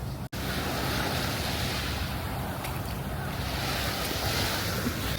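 Waves breaking on a beach in Busan, Korea, a steady loud wash of surf mixed with heavy wind buffeting the microphone, continuous and close with no talking.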